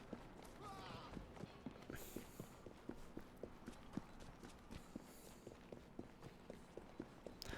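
Horse hooves clip-clop in a steady rhythm of moderately loud, evenly spaced hits throughout, from the video game Assassin's Creed Syndicate on PS4, with faint background game ambience.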